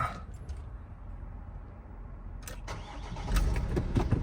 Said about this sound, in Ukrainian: заведу автомобіль, щоб люди бачили, як працює робота